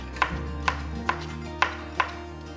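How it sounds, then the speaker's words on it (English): Sliced gherkin is chopped into small cubes with a knife on a board, five crisp, evenly spaced knocks ringing out close and clear with no talking. "I'm going to add 2 slices and I'm just going to chop it into small little cubes."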